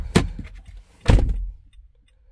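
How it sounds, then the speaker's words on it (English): A door on a Nissan Pathfinder SUV, 2013-15 model, shuts twice in quick succession, each a close, solid thump roughly a second apart. Fainter rattles follow, then quiet. "Turn the hazard on,"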